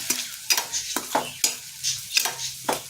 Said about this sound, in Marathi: हा कांदा मध्यम गुलाबी कलर येईपर्यंत परतून घ्यायचा तेलावर